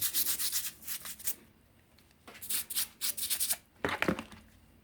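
A sandstone rock is rubbed and polished by hand in close, raspy scrubbing strokes that come in bursts with short pauses, loud and alone with no talking.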